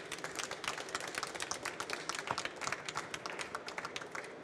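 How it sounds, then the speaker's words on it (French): An audience applauds guests at the end of a French talk on financing early-stage industrial startups. The clapping is steady, moderately quiet and sustained, with a faint murmur beneath it. "On va les remercier chaleureusement, en fait, voilà, d'être là, les applaudir."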